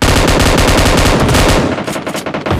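Shotgun fire in a PUBG Mobile arcade match, heard as a loud, rapid rattling burst of gunfire that breaks into scattered shots near the end.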